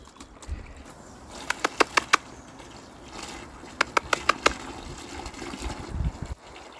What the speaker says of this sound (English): Right, top up their water, save me a job in the morning.